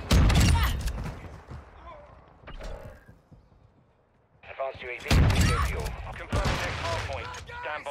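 Bursts of Bryson 800 combat shotgun fire in Modern Warfare 2 multiplayer, several loud blasts clustered at the start and again near the end, with a quieter gap between.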